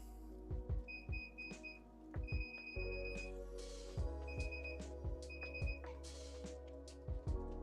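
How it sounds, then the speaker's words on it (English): Digital readout on a PM-728V-T milling machine emitting short electronic beeps in spaced pairs and small bursts, moderately loud, over soft mechanical clunks and handling noises. "I have no idea what the beeping means."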